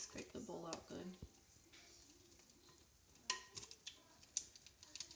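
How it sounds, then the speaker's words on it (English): Small spatula scraping coconut oil soap mixture out of a bowl, soft irregular scrapes and taps close by, with someone talking at the start. "I have a little spatula that I can use to scrape the bowl out good"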